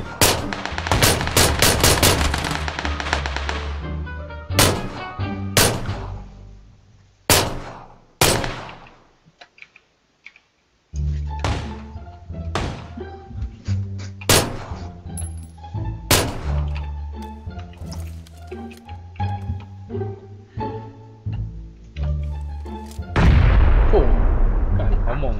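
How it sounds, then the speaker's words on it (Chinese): Artillery explosions and gunfire in a PUBG bombing zone: repeated loud, sharp booms and bursts, some close together, others spaced apart, with a brief near-silent gap midway and a dense rumble at the end. "你轰炸区哦"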